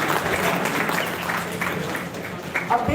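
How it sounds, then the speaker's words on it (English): Conference audience applause, a steady dense wash of many hands clapping filling the hall, fairly loud and continuous with no talk over it. "A big round of applause for our dignitaries"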